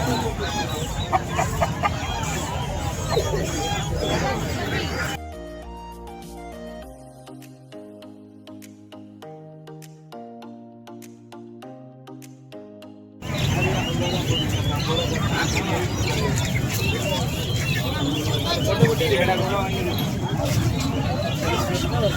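Roosters cluck and crow among the chatter of a busy Friday market crowd in Pallavaram. A quieter stretch of tonal, musical sound interrupts partway through before the bustle returns.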